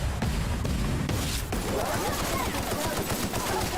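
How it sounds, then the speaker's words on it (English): Rapid bursts of gunfire aimed at the player in The Outer Worlds, loud dense automatic fire and repeated shots rolling on continuously over a busy game soundscape. "Who's shooting me?"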